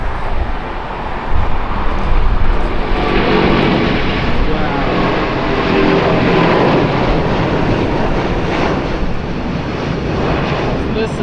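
An airliner takes off at Los Angeles International Airport with a loud, continuous roar that builds and holds at close range, heard under a spectator's voice.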